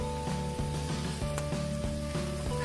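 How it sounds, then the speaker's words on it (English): Onions, scallions, peppers, thyme and garlic sauté in a pan with a steady close sizzle, heard under rhythmic background music. "I am sauteing some onions, scallions, peppers, thyme, and garlic in my pan."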